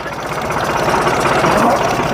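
A tractor engine running at idle, a loud, close, steady mechanical rumble with a rapid knocking pulse throughout, with a voice faintly present.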